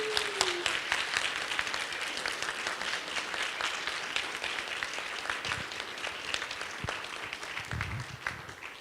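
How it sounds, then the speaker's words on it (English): Steady, moderately quiet applause from a church congregation during a service, a continuous crackle of many hands clapping at an even level from start to finish. "I think this is a good time for applause."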